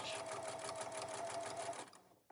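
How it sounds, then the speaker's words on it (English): A sewing machine runs fast and steady, edge stitching along quilt binding at a mitered corner, its rapid mechanical whir close and even before it stops abruptly, followed by a faint click. "edge stitch right along the edge of my binding"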